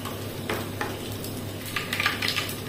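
Mustard seeds crackle and pop in hot oil during tempering for a sprouted horse gram dish, with faint scattered sputtering bursts and a few light utensil stirring sounds over a steady low hum, no talk.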